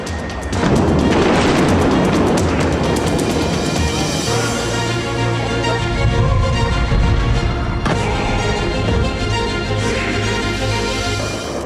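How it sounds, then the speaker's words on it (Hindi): Deep, rumbling booms from missile strikes roll out loudly and continuously at night, one large blast followed by reverberating rumble and a later second boom. "आसमान धमाकों से दहलता नजर आया"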